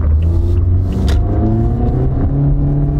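A car with a CVT transmission accelerating, its engine rumbling loudly and steadily with a smooth, rising drone and no gear-shift breaks, heard close without talk.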